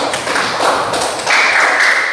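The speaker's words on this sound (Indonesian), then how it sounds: "Kasih tepuk tangan buat Nende." Classroom applause from a group of elementary school pupils, a steady burst of clapping with dense broadband patter that swells midway and keeps going, close and fairly loud, no talk over it.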